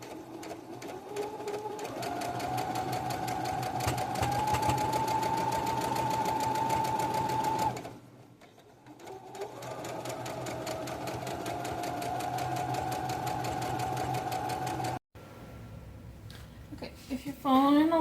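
A sewing machine stitches around the edge of a fabric bowl cover, running in a close steady whir with a brief pause, then resuming before stopping near the end.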